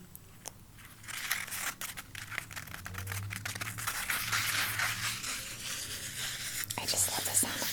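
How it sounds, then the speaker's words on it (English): Agarwood rope incense pack paper crinkled and handled up close, soft papery crunches and rustles building steadily, with faint quiet speech underneath. "just love the sound of this paper so much"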